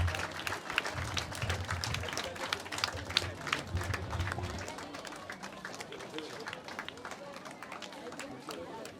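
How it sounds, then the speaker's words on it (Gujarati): A crowd at a village school opening claps in a long burst of applause to welcome the land donor, loud and dense at first and thinning toward the end, with some background chatter. "તો આપણે તાળીઓના ગડગડાટથી વધાવીશું"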